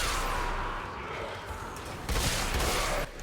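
Full-auto fire from the Braco gun in the video game Warframe, a dense continuous burst of rapid shots running the whole stretch, with a louder surge near the end before a brief drop.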